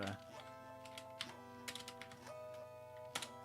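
Computer keyboard typing during a Dwarf Fortress livestream, a few sparse, faint key clicks over a quiet background of game music tones.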